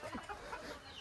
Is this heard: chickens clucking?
yes